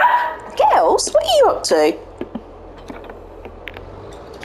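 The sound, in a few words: dogs barking while playing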